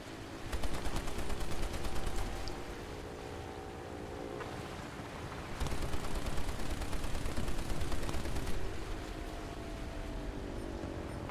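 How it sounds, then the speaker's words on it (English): Machine gun fire crackles through a naval combat video game, dense continuous bursts over a steady rumbling engine and water bed, with brief lulls between volleys. "He's within range of the machine gun."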